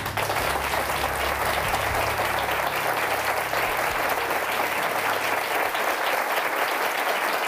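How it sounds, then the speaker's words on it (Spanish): Studio audience on the Spanish-language Who Wants to Be a Millionaire game show applauding a contestant's retirement, steady dense clapping that stays loud throughout with a low hum underneath. "Se retira Alejandro, un aplauso para él"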